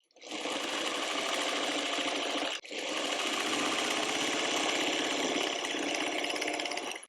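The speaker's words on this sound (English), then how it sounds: "So I'm going to bring in my second fabric F and sew that along the top." A sewing machine stitches fabric for a tulip quilt block in a dense, rapid, continuous whir, close and loud, stopping once briefly before running on steadily.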